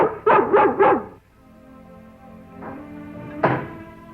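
A collie barks three times in quick succession, loud and close, followed by quiet outdoor ambience and a couple of fainter single barks later on.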